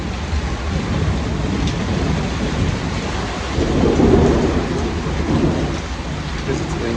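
Continuous rumbling thunder rolls through steady heavy rain during a lightning storm in dry, hot fire country, swelling briefly louder midway with no voices.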